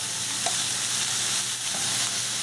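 Butter melting on a hot tawa griddle gives a steady, close sizzle with a soft crackling hiss throughout, alone and with no talk.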